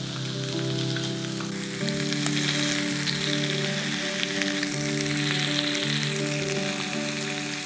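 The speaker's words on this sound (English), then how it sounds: "Fry the fillet about halfway, then flip it, and fry for another minute or so" A white fish fillet sizzles steadily in a hot pan on high heat, a loud, close, continuous crackle with a faint tonal hum underneath and no talking.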